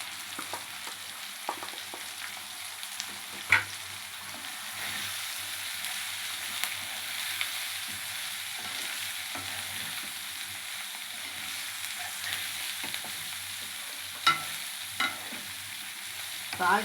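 Cabbage pieces with capsicum and coconut fry in hot oil in a pan, a steady broadband sizzle running throughout with occasional sharp clicks and scrapes of stirring; no voices.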